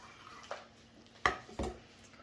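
A knife cuts into grilled barbecue ribs, giving three brief, close knocks and scrapes against a board or tray, separated by short quiet gaps.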